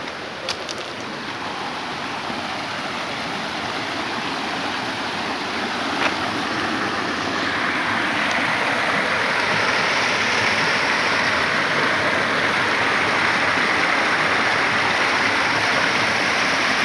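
Clear mountain river in Romania rushing steadily close by, a loud continuous broadband wash of flowing water with no speech.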